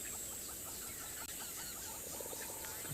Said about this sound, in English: A lot of birds are calling.